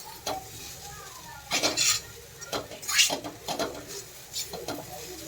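Poha with tomatoes, salt and spices being stirred in a pan on the stove: a spoon scrapes and clinks against the metal in separate, irregular strokes over a faint sizzle.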